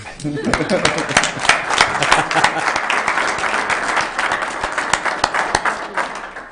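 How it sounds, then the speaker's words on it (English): Attendees at a county commission meeting break into sustained applause, dense overlapping claps filling the room at close range, with scattered voices mixed in. "Couldn't we applaud you now?"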